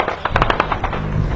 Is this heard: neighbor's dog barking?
no